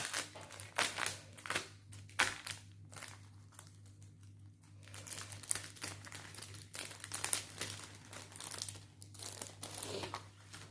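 Plastic packaging of an AliExpress cross-stitch kit crinkles and rustles as it is opened, in close, irregular bursts of crackling and tearing over a steady low hum, with no talking.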